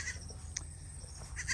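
Goat bleating on a small farm where one of the goats has just given birth; a couple of short, fairly faint bleats come through over low steady background noise, with no one talking.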